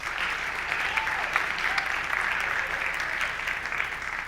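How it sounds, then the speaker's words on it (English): Steady applause from an audience at a school winter sports awards ceremony, dense continuous clapping holding evenly for several seconds at moderate loudness. "So if you guys could give them a round of applause and thank you."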